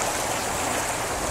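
Keremeos Creek runs high with spring runoff at Becks Road, a dense, unbroken rushing roar of fast water heard close and loud with no voices.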